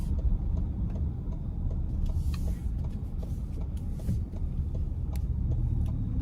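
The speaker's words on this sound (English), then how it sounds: "I'm pretty much just hearing the tires hit the pavement" Tires roll on pavement beneath a 2023 Lincoln Nautilus Black Label with 21-inch wheels, giving a steady low road roar heard from inside the cabin with a faint hum.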